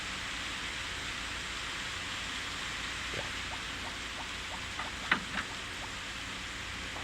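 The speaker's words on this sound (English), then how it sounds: "I'm just gonna stand outside in the rain until it's 1 o'clock." Steady rain in Harvest Moon: Back to Nature forms a constant soft hiss throughout, with faint light taps and a few small ticks over the even wash of falling water.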